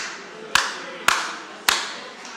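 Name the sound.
audience clapping once on request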